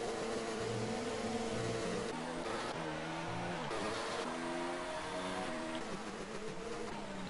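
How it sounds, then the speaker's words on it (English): Several racing car engines glitching together in an online racing game race in Russia, a continuous loud, dense drone of overlapping engine tones with shifting revs throughout. "Jay is stuck in between two cars that are glitching out with their engines"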